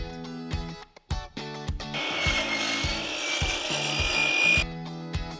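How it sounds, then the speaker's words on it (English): A handsaw cutting a vinyl fence gate rail to length, with several short sharp strokes followed by a steady rasping cut, close and clear with no talk. "you're gonna cut the rail to what you need it to fit your gate opening."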